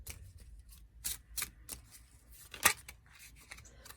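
Cards from a Dreaming Way Lenormand deck are handled and drawn, making faint papery slides, snaps and flicks. One crisp snap stands out among softer rustles, and nobody speaks.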